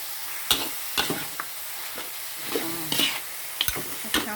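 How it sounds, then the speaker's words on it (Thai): A spoon scrapes and clacks against a large pot of coconut-milk chicken and pumpkin curry in irregular strokes, with a faint sizzle or bubbling underneath. "คนคลุกเคล้าเข้ากัน"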